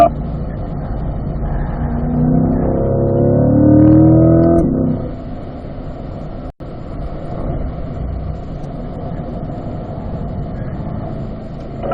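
A car engine, close and loud, revs up in a rising, slightly wavering pitch as the driver brakes and downshifts to third, then drops back to a steady, rough drone.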